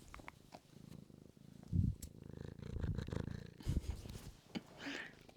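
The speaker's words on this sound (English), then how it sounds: "Let me have some purrs." A house cat purring close by, a low rumbling drone with bursts of louder purr swelling around the middle, joined by faint brushing and rustling noises.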